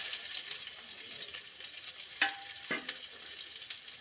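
Onion frying in hot oil with whole cumin seeds, dried red chili and bay leaf, giving a soft, steady sizzle with a few sharp crackles and pops near the middle, alone with no voices.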